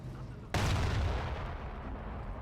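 A single sharp mortar blast in Company of Heroes strikes after a quiet moment, then a rumbling, crackling decay lingers over low battlefield ambience.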